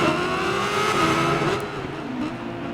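A 2005 Honda 1000cc modified superbike in the Ride 5 racing game, engine howling loud and steady at high revs, then dropping pitch as it eases off near the end, with no talk over it.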